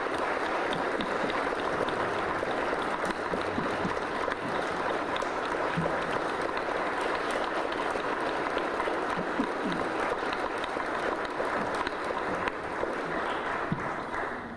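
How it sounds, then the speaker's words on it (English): Sustained applause from a large audience at a chamber of commerce legislative breakfast, a steady dense wash of clapping that holds evenly throughout without talking. "why don't we give them a great round of applause"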